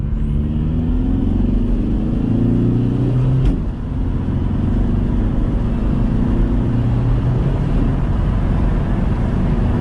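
A 2003 VW Jetta TDI wagon with a manual gearbox pulls hard in second gear, its diesel engine droning loudly and steadily from inside the cabin. The pitch climbs smoothly, then dips briefly at a shift and rises again.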